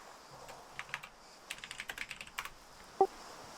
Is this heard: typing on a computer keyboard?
yes